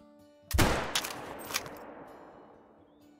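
A single loud rifle shot fired at a sheep at about 350 yards in the hunting game theHunter: Call of the Wild, a sharp crack followed by a long echoing tail and a couple of fading reverberations.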